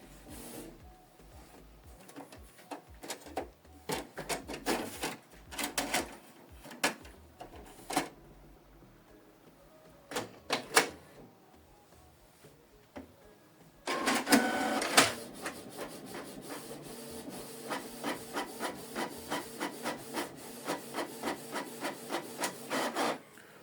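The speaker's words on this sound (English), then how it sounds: "So print a test page." A Canon Pixma inkjet printer whirs and clicks through a test page, with bursts of carriage movement, a louder feed, then a fast rhythmic series of print passes.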